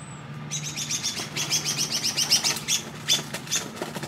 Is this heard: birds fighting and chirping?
yes